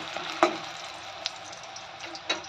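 Eggplant slices frying in oil with a little salt in a home kitchen, a soft steady sizzle with a few sharper pops and clicks of a utensil.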